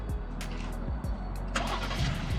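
A 2021 Jeep Grand Cherokee L started by remote start, with a steady engine rumble throughout, a few cranking or idle surges, and a brighter burst of engine noise near the end, heard alone without talk.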